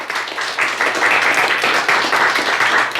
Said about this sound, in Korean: 우리 환영의 박수 보낼까요?